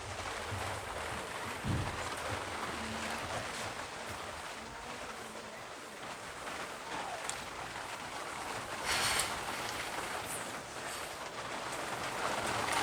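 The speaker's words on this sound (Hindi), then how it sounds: "थोड़ा बारिश हो रही है" Rain falls steadily during a class, making a continuous broadband hiss at moderate, even loudness for the whole stretch.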